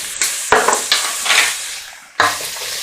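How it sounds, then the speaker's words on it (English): Chopped vegetables frying in a pan for spaghetti bolognese, a loud close sizzle with several sharp scraping stirs of a utensil across the pan, no voices. "fry this for about 10 minutes and just stir the veg"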